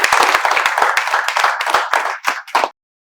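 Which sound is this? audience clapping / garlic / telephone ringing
audience clapping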